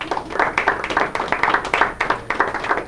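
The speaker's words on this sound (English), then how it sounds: "A little applause for the convection thing." A small classroom audience at a heat-transfer physics lecture claps, quick uneven hand claps from a handful of people, close and moderately loud for about three seconds.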